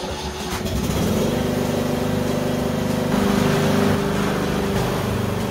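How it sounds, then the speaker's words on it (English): A lawnmower engine starts on a smallholding and settles into a steady, close running drone, loud and continuous with no talking. "I just need to get the lawnmower started"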